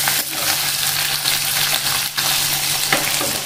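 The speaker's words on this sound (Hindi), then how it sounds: "देख लीजिए आप कैसे लग रहा है सांभर का तड़का" Hot oil sizzles and crackles steadily in a pan as a sambar tempering with curry leaves and onion cooks, close up, with occasional stirring scrapes and pops throughout.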